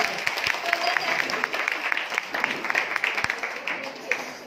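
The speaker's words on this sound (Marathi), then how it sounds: "सर्वांनी पुनर्जोरदार टाळ्या वाजवायची" Audience applause after a patriotic song at a Marathi Language Fortnight school event, a steady stretch of many hands clapping that holds fairly even for a few seconds with sharper individual claps poking through.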